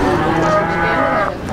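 A PO (Ongole crossbred) cow at a livestock sale lets out one loud, close, sustained moo that fills the brief moment.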